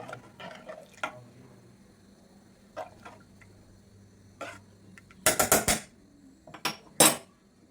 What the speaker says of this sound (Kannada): ನೋಡಿ ಫ್ರೆಂಡ್ಸ್ ಕುದೀತಾ ಇದಲ್ವಾ ಇವಾಗ